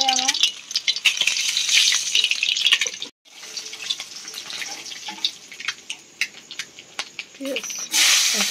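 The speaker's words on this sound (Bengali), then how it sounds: "এবার ডিম ভাজা হয়ে গেছে" Eggs frying in a pan on a home kitchen stove, with a continuous bright crackling sizzle and spatter, briefly cut off midway, while a voice speaks faintly now and then.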